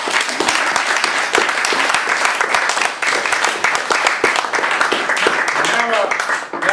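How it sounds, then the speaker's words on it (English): Audience applause at a live PRMurry gig, Dodo 25, fills the room as loud, dense clapping that runs unbroken for several seconds, with a brief dip midway before surging on. "More applause, please, for a great PRMurry."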